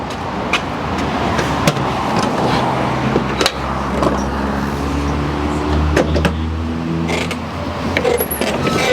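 A lawn tractor drives along with a steady low engine drone, punctuated by occasional clunks and rattles from the machine, close and fairly loud with no talking.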